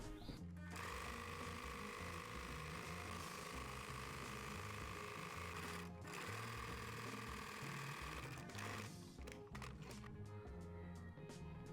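A sewing machine runs steadily, stitching a double-folded hem on a fabric halter top, with a continuous mechanical whir that pauses briefly twice before resuming.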